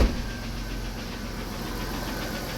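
A minivan engine idles steadily nearby with a low rhythmic rumble and faint ticking, continuous throughout the short stretch with no talking.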